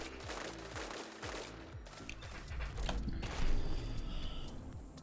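A fast-firing fusion rifle in Destiny 2 PvP goes off in quick charged bursts with clattering mechanical tails, set among repeated shots and game effects at moderate, fairly close level, with no speech.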